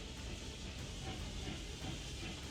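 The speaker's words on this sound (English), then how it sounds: "Robot. Nope, train." A train rumbles past in the Octopath Traveler 2 game, a steady low rolling roar with hissing, heard alone for a couple of seconds.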